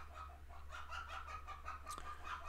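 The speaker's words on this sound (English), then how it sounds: "My chickens are going crazy." Backyard chickens clucking in a rhythmic run of short, repeated calls, fairly close and agitated, over a steady low background hum with no talking.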